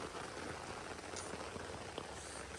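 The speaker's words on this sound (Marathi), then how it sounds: "आता पाऊस खूप आलेला आहे" Heavy rain pours down steadily outdoors during a rainy-day dance outing, a dense, even hiss of drops on surfaces with no talk.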